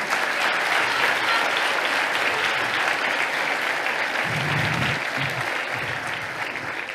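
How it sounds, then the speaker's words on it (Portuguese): Steady, dense applause from a sizable church congregation during a communion service, sustained and fairly loud throughout, with faint voices briefly surfacing near the end. "Aplauda ao Senhor."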